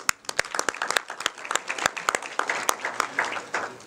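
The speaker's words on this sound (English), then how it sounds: "a round of applause to all the panelists" Applause for the panelists at a regional workshop on inclusive green economies in Africa, a small group clapping with distinct sharp individual claps that thin out toward the end.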